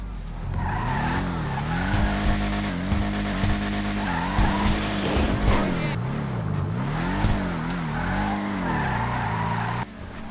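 A San Andreas Autos car in GTA 5 Online drives hard with a loud, continuous engine note that rises and falls with throttle, mixed with repeated tire squeals and skidding as it slides through turns.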